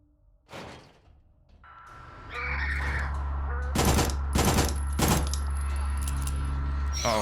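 Gunfire in the Signalis video game, with a few sharp shots and bursts over a loud low mechanical hum, after a quiet start and a brief voice.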